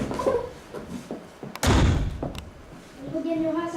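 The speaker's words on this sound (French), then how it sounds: "La femme claquera la porte derrière lui." Door slammed shut in a home, a single heavy thud partway through, set between someone speaking in a dramatized scene with music.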